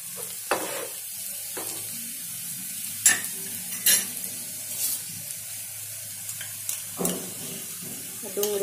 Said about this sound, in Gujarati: ડુંગળી થોડી લાલ થવા દઈશું.